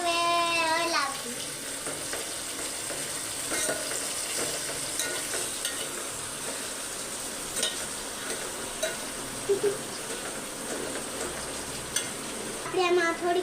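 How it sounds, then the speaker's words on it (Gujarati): A salted spice mixture is stirred in a pan, giving a quiet, continuous sizzle with soft scraping and occasional light clicks of the spoon throughout. "આપણે હવે હલાવી."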